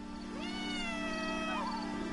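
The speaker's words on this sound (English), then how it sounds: "That is my cat. She likes to talk to me." A cat in the video game What Remains of Edith Finch gives one drawn-out, rising and wavering meow, clear and close over a steady low background hum.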